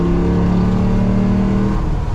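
Coyote V8 swapped into a 1970 Ford F250 truck, a steady loud engine drone heard from inside while driving, holding a low rumbling pitch that eases slightly near the end.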